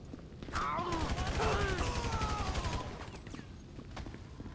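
Gunfire in the video game GTA 5, a rapid automatic burst of shots over a rumbling action soundscape with whooshing tones, fairly loud, mixed with some vocal sounds.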